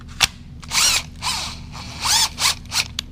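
A cordless drill with a broken chuck whirs in several short bursts of about half a second each, separated by brief pauses and a few sharp clicks, loud and close.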